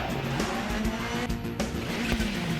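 A 34-gram Hot Wheels 2011 Camaro diecast car with a golden underside and custom livery races down a diecast drag track, making a loud, steady whirring roar with no break.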